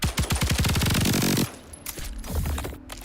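Rapid full-auto gunfire in a video game, a fast burst of loud, evenly spaced shots for about a second and a half, then scattered game effects and lighter shots.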